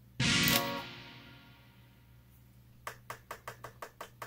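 One loud guitar strum through a Digitech RP80 effects pedal's church reverb blooms into a long, cavernous reverb that fades slowly for a couple of seconds before a quick series of soft taps.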